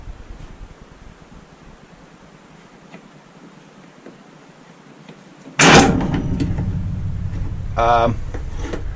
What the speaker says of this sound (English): If you guys heard that sound, I think that indicates that the winch is good